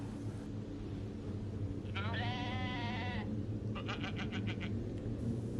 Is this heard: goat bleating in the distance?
yes